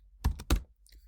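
Typing on a computer keyboard: two or three quick, close key clacks in a short burst, followed by a faint tap.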